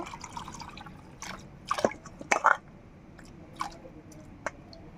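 Water being strained off freshly washed mangoes for pickle-making, a few brief splashes and trickling drips near and fairly faint, with short bursts in the middle and quiet gaps between.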